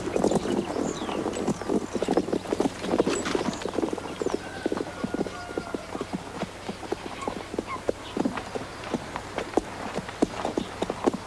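Horse hooves clip-clopping at a steady walking pace on a farm, close and distinct, with faint rain-like patter in the background.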